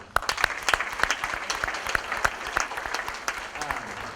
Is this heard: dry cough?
no